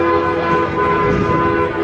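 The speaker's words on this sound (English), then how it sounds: "I hear the train." Amusement park train at Six Flags Over Georgia, heard as a steady, loud tonal horn or whistle sustained throughout amid crowd ambience.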